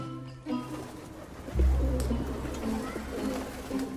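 Pigeons from a royal racing-pigeon flock, cooing in soft, low, throaty bursts close by, a few separate calls over a few seconds with faint background noise.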